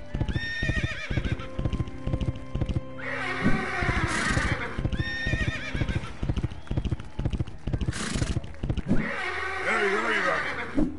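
Horse in the video game Foul Play, rhythmic clip-clop hoofbeats running throughout with two loud whinnies breaking in, fairly close and clear.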